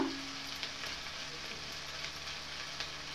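Chicken masala spices with turmeric fry in oil until the oil separates, giving a faint, even sizzle with a few soft stirring taps throughout.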